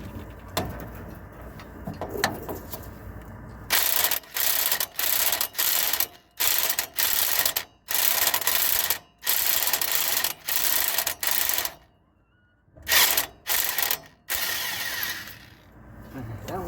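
A hand ratchet clicks rapidly in repeated bursts while working an exhaust manifold bolt back and forth on a 5.7 engine in a P30 skoolie, close and sharp, with short pauses between strokes.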